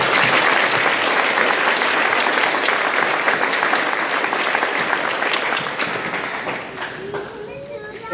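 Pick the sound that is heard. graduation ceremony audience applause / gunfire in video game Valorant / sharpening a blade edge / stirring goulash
graduation ceremony audience applause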